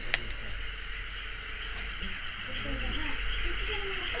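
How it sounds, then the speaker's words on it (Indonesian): Crickets chirp steadily at night in a quiet forest setting, a continuous high trill with a low background hum of flowing water and faint rustling. "Bener-bener cuma dengerin suara jangkrik, suara arus air."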